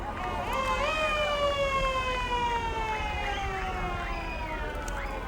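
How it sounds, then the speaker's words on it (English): Wailing fire engine siren sweeping up and down over a busy Fourth of July street parade in Huntington Beach, loud and close, with steady crowd noise beneath and no clear speech. "Well, I hear a fire engine coming."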